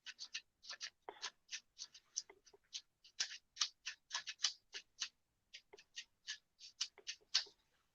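Finger tapping and clicking on paper, close and quiet, a quick irregular run of many light crisp ticks with short pauses, resembling typing.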